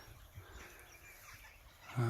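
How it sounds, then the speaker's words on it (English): Birds in marshland along a hill trail in Northumberland, heard as faint outdoor ambience that ends with one short, louder call. "You can hear the birds in the marshland here."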